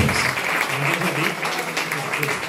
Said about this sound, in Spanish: demos un aplauso, ¿no?